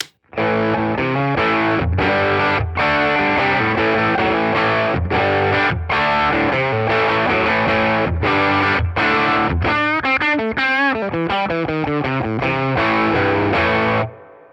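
An electric guitar is played loud and distorted straight into a Fender Tone Master Deluxe Reverb amp with no pedals, driving chords and riffs in a sustained, rhythmic stream, ending in a fast run of bends before cutting off.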